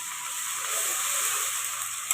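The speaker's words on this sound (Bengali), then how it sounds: "রসুনটা আর পেঁয়াজটা ঠিক এরকমভাবে আমি একটু তেলের মধ্যে ভালো করে নেড়ে চেড়ে নিয়েছি।" Garlic paste and onion sizzle in hot oil as they are stirred, a steady close hiss that holds evenly throughout.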